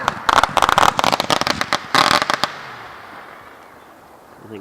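Fireworks going off in rapid bursts of sharp crackling pops, loud and close for about two and a half seconds, then fading into a quiet outdoor hush.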